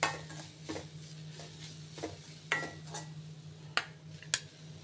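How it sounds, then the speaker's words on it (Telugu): Grated beetroot stir-fried dry in a pan for beetroot laddu, with a spoon scraping and clinking against the metal in scattered strokes over a faint steady background hum, no talking. "ఈ బీట్రూట్ కూడా వేసుకుని మనం దీంట్లో వేయించేసుకోవాలి."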